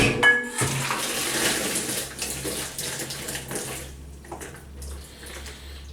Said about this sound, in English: strain off the butternut squash